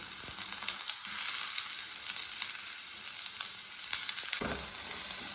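Sliced onions fry in hot coconut oil with mustard seeds for masala bonda filling, giving a continuous close crackling sizzle with occasional stirring scrapes and no talk.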